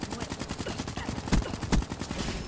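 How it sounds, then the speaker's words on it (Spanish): Hip-fire gunshots in Call of Duty Black Ops 3 during a Domination match on the map Fringe, a fast run of shots under game noise with two louder bangs standing out near the end. "Bien, le disparamos de cadera."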